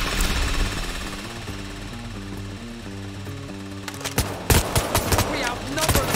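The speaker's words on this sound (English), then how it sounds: "Drill set up!" A mechanical drill whirs in a steady stuttering rhythm during a heist in the video game Payday 3, then sharp bursts like gunfire break in near the end.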